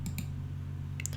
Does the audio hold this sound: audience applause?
no